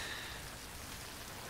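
Rain falls in the survival video game Stranded Deep. It makes a soft, steady hiss that stays faint and even throughout, with no voices over it.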